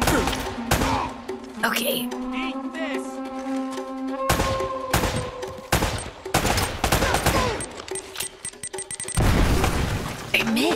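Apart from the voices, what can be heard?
gunfire and a bomb explosion in the video game Uncharted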